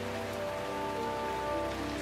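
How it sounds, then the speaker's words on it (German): Steady rain in the Scottish Highlands, a dense, even wash of drops hitting surfaces that holds without a break from start to end, with no voices. "Schottland ist berüchtigt für jede Menge Regen."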